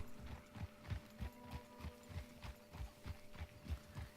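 Horse hooves clip-clop in Red Dead Redemption 2, a steady, even trotting rhythm of soft thuds repeating about twice a second, fairly quiet and unaccompanied by speech.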